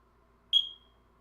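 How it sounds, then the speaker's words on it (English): A single short, high-pitched electronic chirp from a smoke alarm with a low battery, sounding once against a quiet room. "smoke alarm's been going on for 3 days, man. The battery's low."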